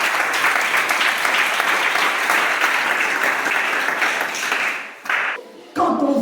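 A church congregation at a Sunday service breaks into sustained, dense applause and cheering that fills the room, then tapers off and pauses briefly before a final burst of clapping.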